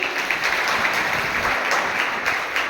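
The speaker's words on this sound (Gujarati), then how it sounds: "એ વાતને સૌ પહેલાં તો આપણે તાળીઓથી વધાવીશું." An audience at a seminar claps steadily, dense applause that holds an even level for a few seconds.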